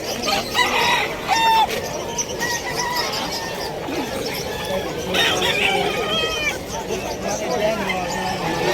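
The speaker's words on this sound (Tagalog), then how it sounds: "Mga manoks." Chickens cluck and roosters crow at a busy pet market, several birds calling near and far over steady crowd noise and background voices.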